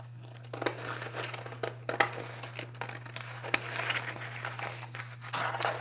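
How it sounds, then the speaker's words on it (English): A paper napkin for decoupage is creased and folded by hand, giving soft crinkling and rustling with a few sharper crackles close up over a steady low hum. "I'm just going to crease it down"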